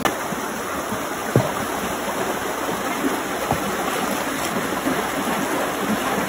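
The clear Cibangge stream flows steadily nearby, a continuous broadband rush of water with a few faint splashes, loud and unbroken throughout.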